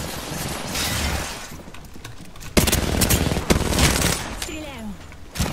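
Gunfire in Apex Legends rings out in bursts of sharp, loud shots, with impacts and clatter between them and voices over parts of it.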